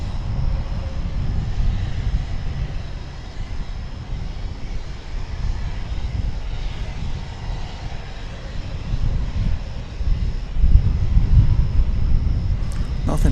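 American Airlines airliner rolling for takeoff at Dallas Fort Worth airport, a steady distant engine roar and low rumble that swells louder near the end, with no voices over it.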